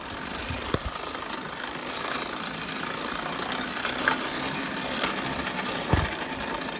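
An 80cc motorized lowrider bicycle engine is cranked over, with a steady mechanical clatter and ratcheting, a few sharper knocks and no sign of it catching, close by and without talk.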